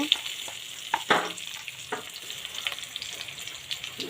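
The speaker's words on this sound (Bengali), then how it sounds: "এখন পটলগুলিকে আবার দিয়ে দেব দিয়ে একটু নাড়িয়ে নেব ভালো করে" Pointed gourd pieces being stirred in a hot pan with onion, ginger and garlic: a steady soft sizzle with scraping stir strokes and a few sharper clinks, close and alone.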